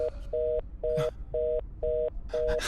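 A telephone busy tone after an international call drops, six evenly spaced short beeps with a steady rhythm, close and clear, with a brief rustle or clatter between some of them.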